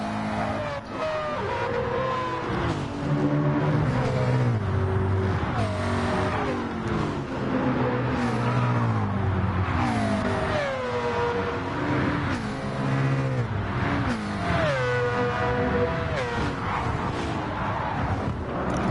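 Race cars in a PS4 racing game, one of them a Mazda RX Vision, roar continuously with rising and falling engine revs and shifting pitch sweeps, loud and steady throughout with no talking.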